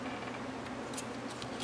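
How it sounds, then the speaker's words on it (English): Scissors being handled while making handmade planner stickers, quiet close clicks and snips against a faint hum, with a few brighter sharp ticks near the end. "I need to clean the glue off of these scissors."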